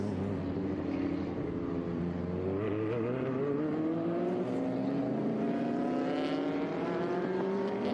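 Vintage race cars heading out onto the Austin track rise in pitch as several engines rev, their overlapping whining drones climbing steadily at moderate distance with no speech over them.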